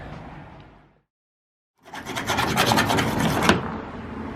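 Sanding on the body of a Nissan G35, a dense scratchy rasp with a short stop, then a louder sustained stretch of close, steady abrasive rubbing.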